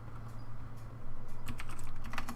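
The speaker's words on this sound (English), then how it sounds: "I keep looking up to it to see exactly what I did, and I end up typing the wrong stuff" Typing on a computer keyboard while writing code, a fast, close run of light key clicks over a low steady hum, growing denser and more rapid in the second half with no speech.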